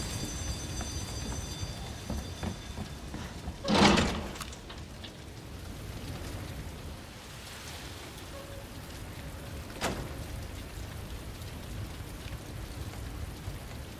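Rain falls in the video game Resident Evil 2 as a soft, steady hiss, with a short louder gust or rumble near the start and a brief sharp crack later, and no talk.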